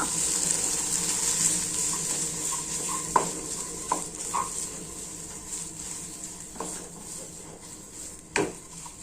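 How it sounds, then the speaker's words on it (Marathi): Poha snack ingredients with chopped coriander being mixed in a bowl, giving soft scraping stir sounds with a few sharper utensil knocks over a faint steady background hiss. "यामध्ये कोथिंबीर टाकून मिक्स करून घेऊया"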